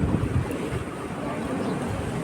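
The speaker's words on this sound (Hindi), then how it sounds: "वाह, कैसे लहरें उठ रही है ना।" Sea waves break along the waterfront at India Gate in Mumbai, a loud, steady wash of surf mixed with heavy wind buffeting the microphone.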